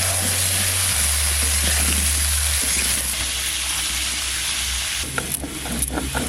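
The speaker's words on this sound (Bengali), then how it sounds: "ওই তেলের মধ্যে আমি আলু কটা দিয়ে দেবো।" Potatoes added to hot oil left from frying koi fish hiss and sizzle loudly and continuously, with scraping stirring sounds near the end and no voices.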